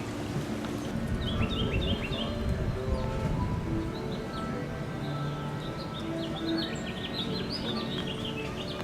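Birds chirping outdoors at Rock City, quick bright tweets and short trills coming in bursts over a steady low background rumble and murmur.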